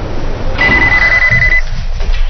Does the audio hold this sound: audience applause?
no